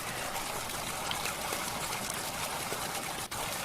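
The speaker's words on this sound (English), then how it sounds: "a little waterfall" A small waterfall in a video game gives a steady, even rushing and trickling wash of water. It holds constant at a moderate level with no talk over it.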